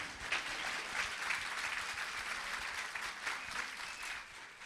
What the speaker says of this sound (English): I want a bigger round of applause